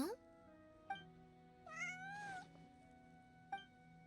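A voice imitates a cat's meows in Genshin Impact, several short rising mews with pauses between them and one longer wavering call, close and clear.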